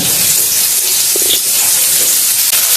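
Sliced onion sizzles in hot oil in a pan, a loud continuous hiss with a brief crackle near the middle and no speech.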